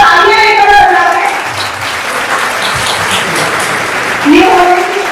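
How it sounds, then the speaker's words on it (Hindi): Audience at a farmers' agricultural event on cotton and chilli crop management applauds in a steady burst of clapping lasting several seconds, following a speaker's voice at the start, with more speech returning near the end. "और तालियां एक बार बजा दें।"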